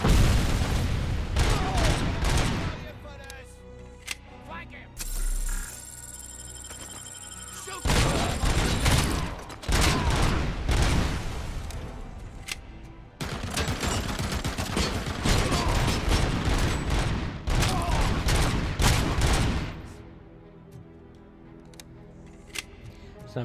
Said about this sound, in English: That's a lot of fire coming from there